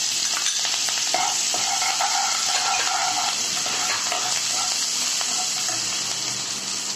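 Sliced green chilies and diced onion sautéing in oil in a kadai for restaurant-style kadai paneer, giving a steady loud sizzle with stirring scrapes throughout.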